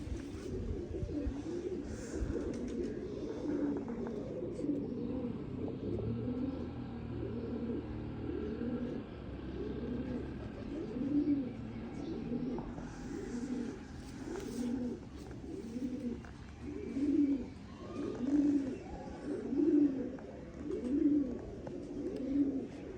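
Domestic pigeons from a prized flying pair coo close by in a regular, repeating rhythm, soft throaty calls rolling one after another over a faint background hum.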